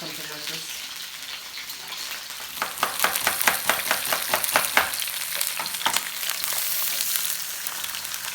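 Chopped red onion frying in hot oil for a Thai green chicken curry, with a steady sizzle and a run of quick scraping stirs building in the middle, close and fairly loud with no speech.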